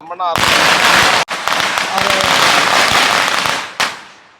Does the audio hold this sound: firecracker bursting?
yes